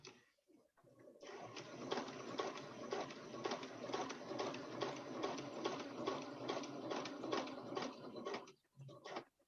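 A sewing machine runs steadily at close range, its needle ticking in a fast, even rhythm for several seconds before stopping.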